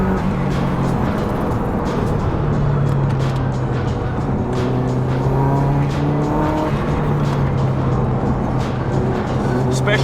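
A Subaru 22B replica driven hard around a greasy race track, its engine droning loudly and steadily with rising and falling tones as it accelerates and shifts, continuous and close throughout.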